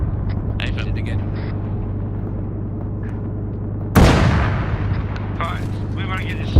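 Tank cannon firing in the video game Arma 3: one loud, sharp boom with a decaying rumble, set against a steady engine drone, with radio chatter earlier.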